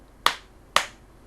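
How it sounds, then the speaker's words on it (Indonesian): Two sharp, close hand claps about half a second apart in a scout clapping pattern, clean and alone with no talk. "tepuk ganda,"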